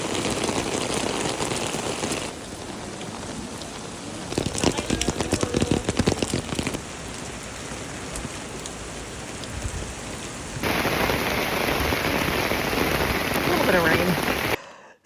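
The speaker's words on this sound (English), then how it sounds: "it rained practically the entire time, and heavy, heavy rain" Heavy rain pouring steadily in Paris, a dense continuous hiss with patches of louder drumming on surfaces, holding throughout at a strong, close level with no voices.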